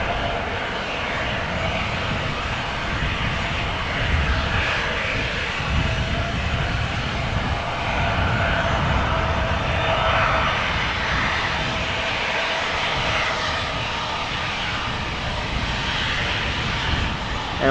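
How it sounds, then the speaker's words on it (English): KLM Boeing 737 jet engines on a flight to Milan at Amsterdam Schiphol make a continuous, fairly close rumbling roar, steady in level with slight surges throughout and no talking. "This is the 737 to Milan, KLM flight"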